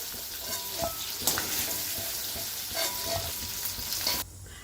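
Cumin seeds, bay leaf and cloves sizzle in oil left from frying potatoes for aloo dum, a steady close crackle with a few sharper spatters and stirring scrapes before it cuts off abruptly near the end.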